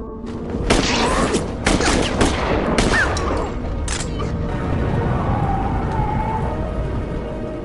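Several sharp pistol shots crack in quick succession in a film scene over a loud, rumbling background, then a dense noisy wash continues after the firing stops.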